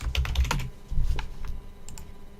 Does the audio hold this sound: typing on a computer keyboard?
yes